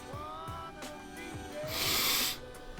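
A few short nasal sniffs spaced apart, followed by a louder breathy snort, close and fairly quiet.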